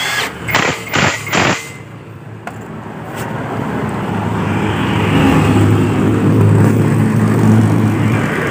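A Yamaha Mio M3 125 scooter, just fitted with new rear brake shoes, starts after a few knocks and clanks. It settles into a loud, close, steady idle that builds slightly and holds.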